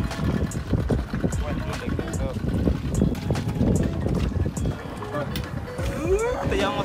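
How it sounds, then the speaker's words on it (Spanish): A motorboat's engine rumbles under wind buffeting and splashing water as the boat crosses the sea toward floating restaurants, with people talking over it. "Te llevamos a bordo de la lancha, nos dirigimos hacia los restaurantes flotantes"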